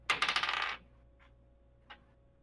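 Dice tossed onto a table during a tabletop role-playing game burst into a quick, close rattle of bouncing clicks, then two faint separate taps as they settle.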